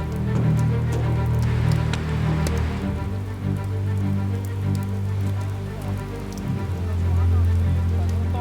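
Steady rain falls onto hard surfaces of a construction site with scattered drops, over a constant low mechanical rumble; no voices.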